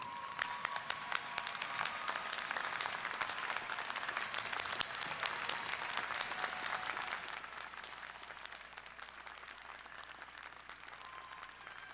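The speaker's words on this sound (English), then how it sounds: "I now invite all of the graduates to rise and join me in applauding your families and friends" Sustained applause from law school graduates clapping for their families and friends at a university commencement ceremony in a large hall, a dense wash of many hands that holds steady, then thins slightly toward the end.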